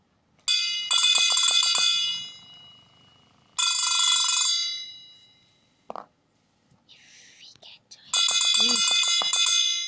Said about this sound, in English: The bell is ringing.